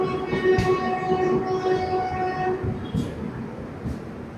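A train stands at a station on the Mangaluru–Kasaragod stretch, with a rumbling engine drone, steady tonal hum and occasional sharp clanks and hisses, fairly close and continuous.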